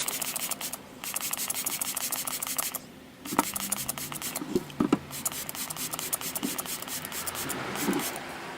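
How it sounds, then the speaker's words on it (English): K&N filter oil sprayed across an air filter outdoors in warm shade, a close, soft hissing spray coming in repeated bursts with brief gaps and faint rubbing between them. "So we're going to spray it on all over the air filter like so."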